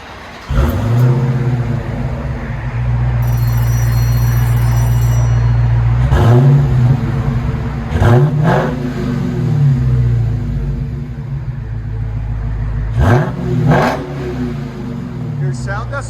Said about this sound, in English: we got a 2021 Dodge Charger SRT Hellcat. This is what it sounds like before.